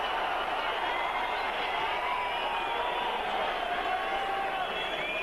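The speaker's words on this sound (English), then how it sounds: "as you can hear from the crowd" Arena crowd at a WBO heavyweight championship boxing match, Klitschko versus Byrd, roars in a steady, loud wash of cheering that holds unbroken throughout.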